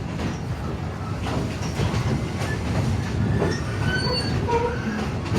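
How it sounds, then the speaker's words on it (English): Steam locomotive on the East Broad Top Railroad rolling along the track, a steady close rumble of wheels and cars with faint squeals and clicks throughout, no talk. "The engineer uses the throttle to allow the steam to push the pistons back and forth, which are connected to rods on the drive wheels, and that moves the train."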